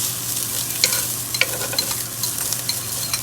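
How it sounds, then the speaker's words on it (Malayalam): Frozen grated coconut roasting in a pan, a soft continuous sizzle with irregular scraping stirs close by, no voices. "അപ്പോൾ തേങ്ങ അതിലിട്ട് നമ്മളൊന്നത് വറുത്തെടുക്കണം"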